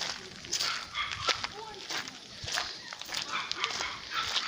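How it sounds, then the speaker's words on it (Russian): A guard dog shut indoors at a family's countryside holiday spot barks in repeated short bursts at mid distance, mixed with whimpers and yips, while people talk nearby. "Да слышу, мне прям жутко становится от этого лая."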